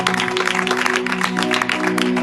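An evangelical church congregation claps during a worship service, a dense patter of hands over sustained musical tones filling the hall.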